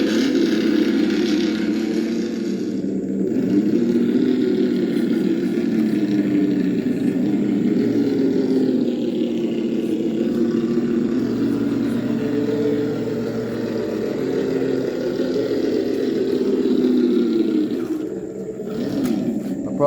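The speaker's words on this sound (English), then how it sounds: "So I put the 21 turn rebuildable, generic, whatever it was, but it's a very good torquey motor" An RC crawler truck fitted with a 21-turn rebuildable motor runs steadily with a continuous whining, growling drone that swells and dips slightly but never stops, loud and close.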